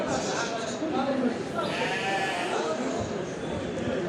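Goats bleat at a busy outdoor livestock market in Diyarbakır, Turkey, their calls mixed with people talking and general bustle close by.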